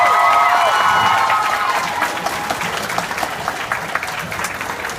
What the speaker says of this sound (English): everybody in this cafeteria needs to give a round of applause to this man, Mr. Miller, who made all of this possible